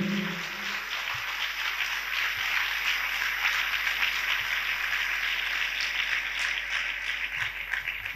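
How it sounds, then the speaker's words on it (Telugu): Congregation in church clapping hands together to glorify God, a steady, dense patter of many hands that runs evenly without breaks, fairly loud, with a faint voice fading out at the very start. "చప్పట్లు కొట్టి దేవుని మహిమపరచండి గట్టిగా."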